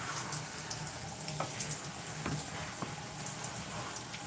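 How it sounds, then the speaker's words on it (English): Water runs steadily as conditioner is rinsed out of hair, a faint continuous hiss with small splashes and drips, no voices. "So I just want to rinse out all the conditioner first, because I don't leave conditioner in my hair."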